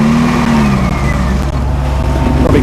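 A little Fiat 500 revving loudly and steadily as it strains to tow a big Hummer off a rock at the Dakar 2011 rally, engine note rising briefly and holding close up with no talk.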